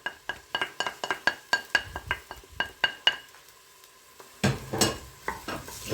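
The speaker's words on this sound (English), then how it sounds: "Just give that a quick stir" A spoon clinks rhythmically against a pan while stirring finely chopped garlic into a rich meat sauce for lasagna, a quick run of sharp taps followed by a brief pause and a softer sizzle and scrape.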